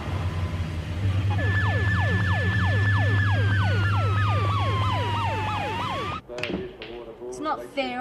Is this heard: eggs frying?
no